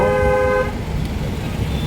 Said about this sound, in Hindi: लॉन्ग हॉर्न लीजिए